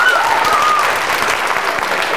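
Audience applause rings out at a school quiz show after a blitz round, a dense, loud, steady clapping that fills the whole stretch, with a faint tone sliding briefly at the start.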